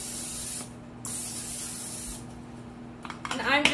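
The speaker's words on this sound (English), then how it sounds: "We'll spray our 9x13 baking dish really good." Great Value extra virgin olive oil cooking spray hissing into a 9x13 baking dish in a home kitchen, several close spray bursts with short pauses, and a voice speaking near the end.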